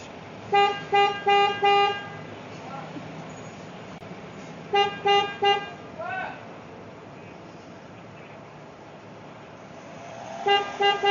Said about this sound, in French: C'est incroyable, au péage avec autant de klaxons